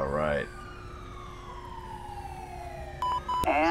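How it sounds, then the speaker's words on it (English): A wailing emergency siren from an ambulance in GTA 5 rises and falls, loud and near at first, then sweeps steadily in the background; a short electronic tone sounds near the end. "And ambulance en route, responding code 3."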